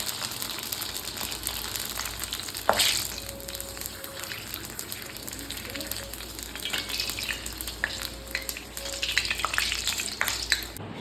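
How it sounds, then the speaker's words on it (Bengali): Fuchka puri shells fry in hot oil, a dense continuous sizzle with occasional stirring scrapes and bubbling, close and steady throughout, without talking. "এবার ফুচকাটা ভেজে নেব।"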